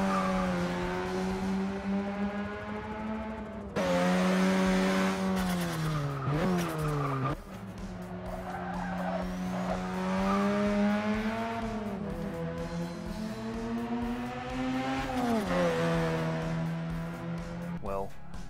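Mazda RX-7 twin-rotor 1.3-litre rotary engine with sequential twin turbochargers revving in the Forza racing game, a buzzy, rising and falling engine note with shifts, sustained and loud throughout, with tire squeal mixed in.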